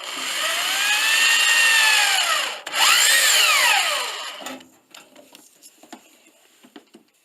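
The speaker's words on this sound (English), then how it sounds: "I use screws to anchor the register boot in place." A power drill drives screws into a metal heating register boot during duct replacement, two loud rising-and-falling whirring runs, then scattered light taps and clicks.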